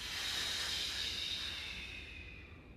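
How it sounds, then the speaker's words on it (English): A slow breath drawn in through narrow pursed lips during a breathing exercise, a steady airy hiss that swells near the start and gradually fades over about three seconds, close and alone. "Inhale through the narrow lips, called Kaki Mudra. Exhale the same way."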